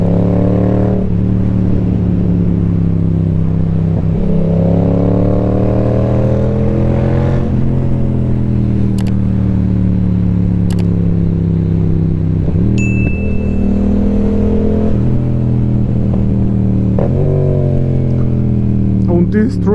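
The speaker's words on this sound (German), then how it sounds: "Und die Straight Pipe ballert." A Yamaha MT-07 motorcycle with a straight-pipe exhaust roars loud and close, revving up through the gears in repeated rising sweeps with brief drops between shifts.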